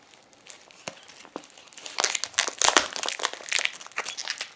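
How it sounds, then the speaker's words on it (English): Protective plastic film is peeled off the front of a Gooloo AP150 Pro tire inflator, starting with soft crinkles and building into loud, close crackling and crumpling. "Let's remove this piece of plastic off the front."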